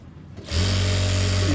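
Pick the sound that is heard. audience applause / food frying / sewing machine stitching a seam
sewing machine stitching a seam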